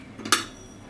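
A spoon taps against a jar as a spoonful of sugar goes into homemade apple cider vinegar, giving one short, close metallic clink with a faint scrape just before it, and no voices.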